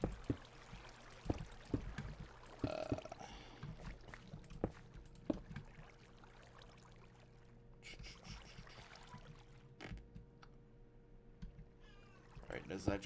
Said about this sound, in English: If you can hear my cat in the background,